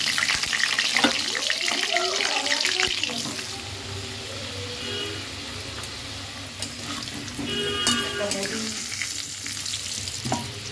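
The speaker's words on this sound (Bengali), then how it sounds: "আলু ভেজে নিচ্ছি।" Potato pieces sizzle loudly in hot white oil with whole garam masala, close up, with stirring clatter and a brief watery hiss partway through; no speech.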